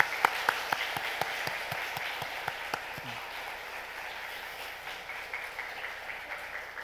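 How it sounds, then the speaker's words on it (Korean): A church congregation claps during Sunday worship for a departing member, a few distinct claps at first, then thinning into soft, faint scattered clapping in a reverberant hall. "박수해 주십니다"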